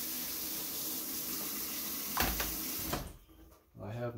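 Tap water runs into a glass quart canning jar while pears are being canned. A steady rushing stream is followed by a clink and a short gurgle as the flow stops, then a voice begins speaking.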